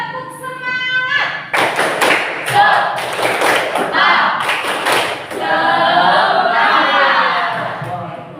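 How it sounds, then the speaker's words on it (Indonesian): A school class performs a rhythmic spirit clap together: bursts of loud, patterned claps and thumps in time, with the students' voices shouting and chanting along between the beats, close and energetic. "Tepuk semangat."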